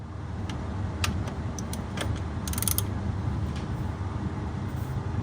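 A ratchet clicks in quick, light ticks as a transmission bolt on a Jeep Wrangler TJ is worked loose, with short bursts of clicking over a low background rumble.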